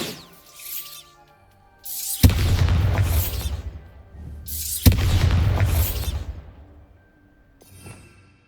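A Bombarda spell exploding in the video game Hogwarts Legacy, two loud booming blasts with rumbling tails a few seconds apart, followed by a faint short pop.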